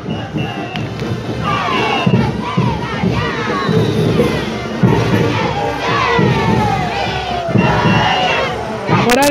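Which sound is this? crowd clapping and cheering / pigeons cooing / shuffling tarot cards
crowd clapping and cheering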